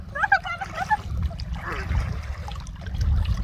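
Swimmers splash and churn the water at Hirakud in a continuous, moderately loud wash of trickling and splashing, with voices briefly heard near the start.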